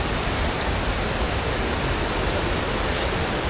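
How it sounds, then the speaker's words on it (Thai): The waterfall at Tham Sao Hin cave in Kanchanaburi roars as a dense, constant rush of falling water, loud and close, with no voices over it. "อ๋อก็คือน้ำตกถ้ำเสาหินเลยใช่ไหมครับ"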